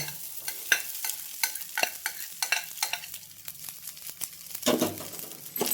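Leftover rice being stirred into a sizzling mixture in a frying pan: a spoon scrapes and taps steadily over a soft, continuous fry, with no voices.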